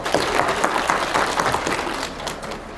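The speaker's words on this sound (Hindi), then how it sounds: "इन सब के लिए एक तालियाँ हो जाए।" An audience at a one-day Poshan Maah nutrition workshop run by the ICDS project in Kargil gives a burst of dense, crackling applause from many people, fairly loud at first and then tapering off slightly.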